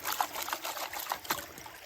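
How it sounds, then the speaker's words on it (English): Water poured out over gold panning riffles or a vortex mat, a steady close trickle and splash for about two seconds with a few brief sharper spatters. "You dump out the water right over these riffles or that vortex mat."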